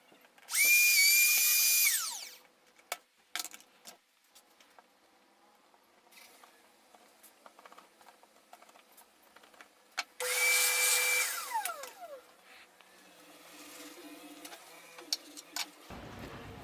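A table-mounted plunge router boring holes in a DIY split router table fence gives two bursts of high, screaming whine, each spinning down with a falling tone, separated by scattered clunks and handling taps.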